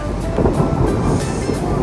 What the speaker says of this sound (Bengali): মেঘ ডাকছে, বাইরে এখনো ঝমঝমিয়ে বৃষ্টি পড়ছে